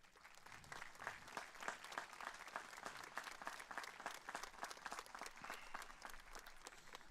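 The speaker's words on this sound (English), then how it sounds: "Please stand for a round of applause." An audience at a 2023 high school commencement gives a steady round of applause for robed teachers, a dense, even patter of many hands clapping that carries on for several seconds at a moderate distance.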